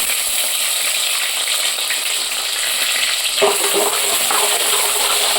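Onion frying in a pan while a hilsa fish curry with cauliflower, eggplant and potato is cooked: a steady, loud sizzle and crackle of hot oil continues throughout, with a brief stirring scrape partway through.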